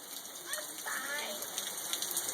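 Steady rain patters on a street, a soft, even hiss of drops on wet pavement with faint splashes throughout.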